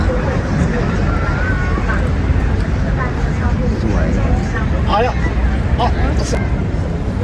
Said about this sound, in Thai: เสียงคนเรียกกันนะครับ